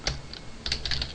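Fingers type Java code on a computer keyboard in quick bursts of key clicks, a short flurry, a brief pause, then another cluster of close, crisp taps with no talking.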